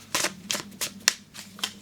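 A deck of cards being shuffled by hand, quiet and close, in about six quick riffling bursts spaced a beat apart.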